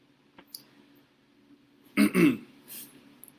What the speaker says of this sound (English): Oh yeah, clear your throat.